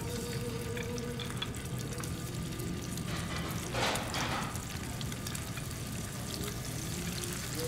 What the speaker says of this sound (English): we just want to sear that in the pan. You want to hear it go in the pan.